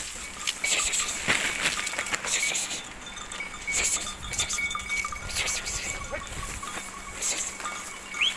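A flock of sheep moves into a garden with a busy patter of hooves and scattered rustling close by, and a voice speaks softly under the commotion.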